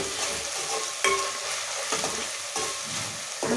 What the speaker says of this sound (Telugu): ఇప్పుడు కళ్యామాకు, ఉల్లిగడ్డ, అల్లం వెల్లిగడ్డ వేసిన.